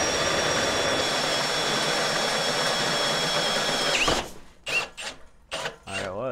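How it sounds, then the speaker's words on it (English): A loud drill whines steadily while boring a winch mount, dips as the bit breaks through and grabs, torquing the drill over, and cuts off abruptly; brief clatters and movement sounds follow. "So when it broke through, it's grabbing the bit there, and you see it torque over like that."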